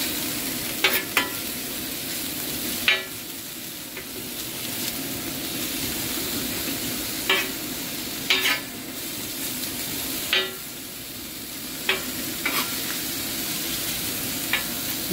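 Egg kottu rotti fries in oil in a pan, holding a constant loud sizzle punctuated by sharp metallic clinks and scrapes at irregular intervals. No talking is heard.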